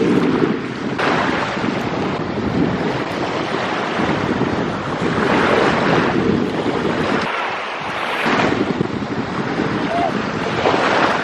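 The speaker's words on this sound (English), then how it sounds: "we're gonna go to the beach now and dunk our feet in the water" Ocean surf and steady wind on a Florida beach give a loud, constant wash of noise with swelling waves and gusty rumble on the microphone throughout, with no clear talk.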